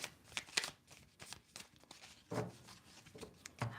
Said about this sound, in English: Do you see me shuffling?